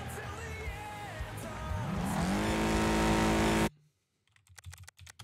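A race car engine in a racing video game revs up steadily and climbs to a loud sustained roar, then cuts off abruptly, followed by a few quiet keyboard taps.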